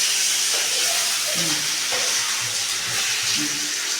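Food fries in oil in a pan with a close, continuous hiss and sizzle, broken by faint stirring sounds, no talking.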